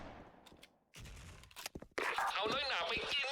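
Rapid bursts of FN FAL rifle fire in the Special Force video game, several sharp cracks followed by a dense, loud volley near the end, mixed with noisy game effects.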